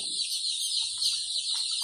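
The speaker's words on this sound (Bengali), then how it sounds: "এগুলো হচ্ছে মিশরীয় ফাওমি মুরগির জিরো বাচ্চা" A dense chorus of many newly hatched Egyptian Fayoumi chicks peeping continuously, high-pitched and close by, with no pauses.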